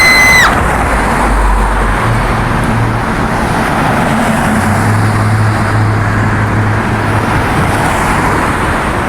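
Busy traffic on a city avenue at night roars steadily and loudly close by, with vehicles rumbling past and a brief high squeal at the start.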